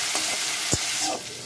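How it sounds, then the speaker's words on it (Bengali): Broad beans fry with salt in hot mustard oil, giving a steady close sizzle with a brief scrape of a stirring spoon partway through. "লবণ দিয়ে সিমটাকে একটু ভালো করে ভাজা ভাজা করে নেব।"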